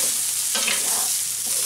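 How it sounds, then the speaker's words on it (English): Leftover rice sizzles steadily in a frying pan while a utensil stirs and scrapes through it partway, close and loud, with no talking. "You've got a nice sizzle going on these."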